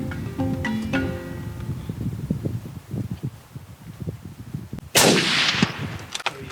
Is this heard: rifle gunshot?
yes